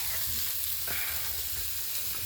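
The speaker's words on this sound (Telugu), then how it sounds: "నిమ్మకాయ కారం మసాలాలు వేసి వేయించుతున్నాం." Pieces of fish frying with lemon, chili and masala, a steady close sizzle with faint stirring crackles, no voices.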